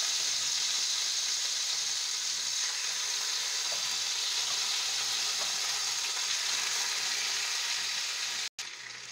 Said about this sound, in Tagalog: pagkatapos po ng isang oras na marinade, prito muna natin siya